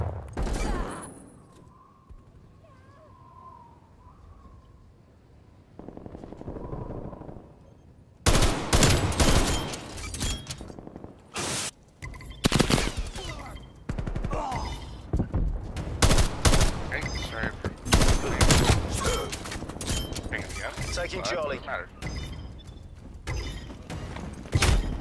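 Gunfire in the shooter Call of Duty: Black Ops Cold War: after a quiet opening with faint mechanical creaks, loud close bursts of rapid automatic fire and scattered shots continue almost without pause.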